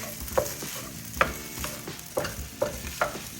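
Eggs fry in melted butter in a pan with a soft continuous sizzle, punctuated by five or six sharp clicks of a utensil scraping and stirring against the pan, and no voices.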